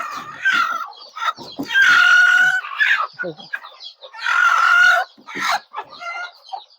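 Free-range country chickens on a poultry farm cluck and a rooster crows loudly and close by, in repeated bursts with short gaps, and someone briefly says a word.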